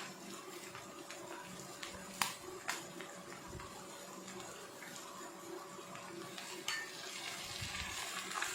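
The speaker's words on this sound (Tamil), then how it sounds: "நல்லா வதக்குவோம்" A bean, coconut and egg stir-fry sautés in a pan with a soft, continuous sizzle. Scattered scrapes and light clinks of a spatula come through, and two sharper knocks stand out. The sound is quiet and nearby, with no talking.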